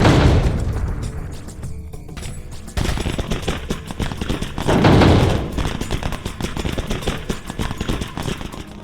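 Gunshots ring out in a Resident Evil 4 minigame, loud sharp reports with booming thuds and a heavy blast around the middle, followed by rapid repeated firing over a busy game soundscape.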